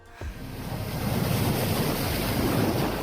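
Ocean surf rolls against the rocky cliffs near São Vicente on Madeira, a steady loud wash of breaking waves with gusty wind buffeting the microphone, sustained throughout with no voices.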